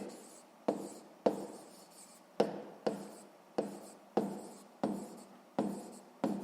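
A pen or pencil writes on paper in a sixth-grade maths exercise, a run of quiet, close scratching strokes with regular sharp onsets about every half second.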